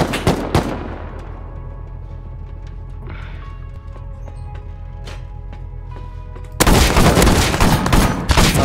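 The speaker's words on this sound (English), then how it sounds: "He's shooting me." Gunfire in the survival video game Rust: several sharp shots at the start, a quieter stretch with scattered distant cracks, then a dense, loud burst of rapid automatic fire to the end.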